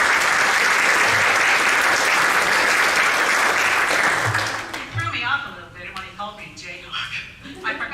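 An audience applauds at a graduate hall of fame presentation, dense and loud clapping that fades to scattered claps after about five seconds, with some voices underneath.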